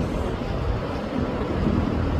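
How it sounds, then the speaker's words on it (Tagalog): Strong waves on a shallow beach at Real, Mauban, Quezon roll in as a continuous, loud, wind-buffeted roar of surf with no voices. "Kahit mababaw siya, pero ang lakas ng alon niya."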